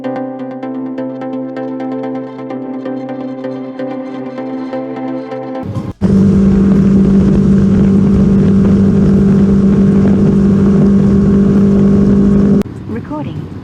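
A motorcycle rides along a freeway, a steady engine drone that cuts out briefly and then returns louder with strong wind rush and a sustained low hum for several seconds, heard close from the rider's position.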